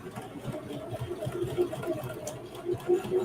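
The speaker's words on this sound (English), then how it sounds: "You see how I'm sewing off? And I'm still sewing." A sewing machine stitches jeans fabric, running as a continuous low mechanical hum with a fast, even needle rhythm, close and moderately quiet with no talking over it.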